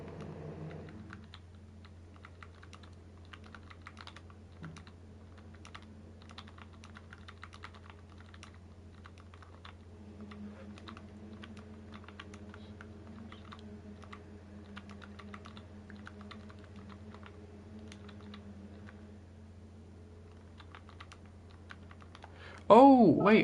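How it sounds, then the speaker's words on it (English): Rapid clicking of someone typing on a computer keyboard, quiet and steady for a long stretch over a low hum, ending with a sudden louder burst of sound. "Is Taters typing something?"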